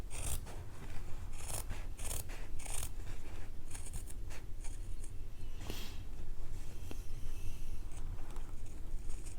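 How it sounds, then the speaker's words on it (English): Small, very sharp scissors snip repeatedly through fabric for a sling bag close up, a steady run of crisp cutting clicks over a constant low background hum. "Very sharp small scissors are very good for this step"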